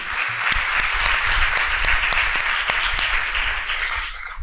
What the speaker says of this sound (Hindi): बहुत सुंदर, तालियां बजाइए